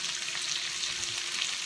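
Rice and cabbage stir-frying in a hot pan, giving a steady, close, unbroken sizzle with no voices over it.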